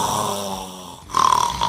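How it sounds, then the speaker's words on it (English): A man snoring in bed through the night, a steady rasping drone that swells into a louder, harsher snore near the end, close and alone with no talk. "He keeps on snoring."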